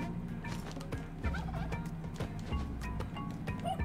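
A turkey gobbles repeatedly in the video game Spelunky 2, a steady string of rapid warbling calls that fills the moment without any talk over it.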